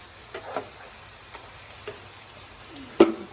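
Ingredients frying in a pan for a prawn curry give a steady, quiet sizzle, with soft stirring scrapes and a sharper clack of a utensil near the end.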